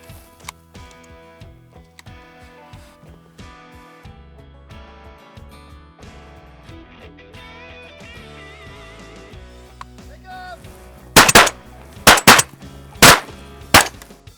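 Gunshots ring out during shooting practice, four loud sharp reports in fairly quick succession near the end, preceded by a long stretch of quieter ticking and clattering sounds.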